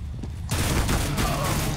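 Automatic rifle fire from Counter-Strike: Global Offensive bursts in suddenly after a brief quiet moment, a dense, loud rattle of rapid shots filling the rest of the moment.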